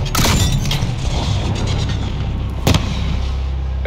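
A grenade explodes in the video game The Embassy, a heavy boom with a rumbling low tail close by, followed by another sharp blast a couple of seconds later amid battle noise.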